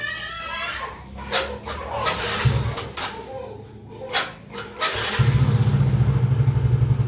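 A Yamaha X-Ride motorcycle engine, just back from a starter repair, cranks and catches, then idles steadily and close by after a few clicks and knocks.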